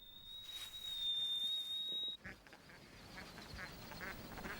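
Ducks quack faintly and at a distance on a Highland sporting estate where pheasants and ducks are reared, under a steady high whistling tone and soft outdoor ambience.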